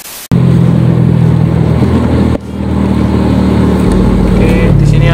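A manual motorcycle riding through the Kota Lama area of Semarang, with loud continuous engine drone and wind rumble close up, a brief dip partway through as it shifts, then the engine pulls on steadily.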